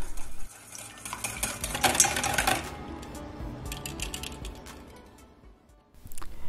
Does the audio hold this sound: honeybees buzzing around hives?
no